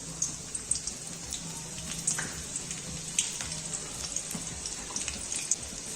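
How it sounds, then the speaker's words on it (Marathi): Chopped garlic sizzles in hot oil in a kadai while restaurant-style crispy chilli chicken is being cooked, giving a steady, soft, hissing fry with faint crackles throughout and no voices. "तेल गरम करून घेतलेले आहे, त्याच कढईमध्ये तेल ठेवलेले आहे। तेलामध्ये थोडासा लसूण टाकू।"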